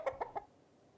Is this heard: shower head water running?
no